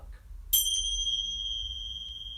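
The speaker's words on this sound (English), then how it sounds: "And an extra bell, just for luck." A single small bell or chime is struck at the end of a yoga class, ringing out close and clear with a bright metallic ding that sustains and slowly fades over a quiet room.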